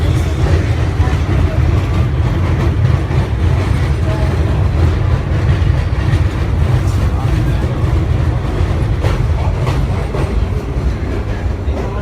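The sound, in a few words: NYC subway train arriving at Brighton Beach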